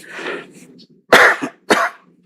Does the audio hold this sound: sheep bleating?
no